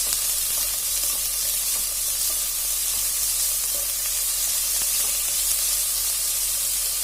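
Onions and crushed garlic sautéing in a pan, a constant close, even sizzle with a hissing frying texture that carries on unbroken, no voices.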